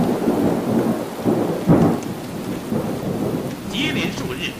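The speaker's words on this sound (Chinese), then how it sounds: "接连数日，大雨铺天盖地" Heavy rain pours steadily during a thunderstorm, with deep rumbling thunder rolling through and one louder crack near the middle. There is no talk.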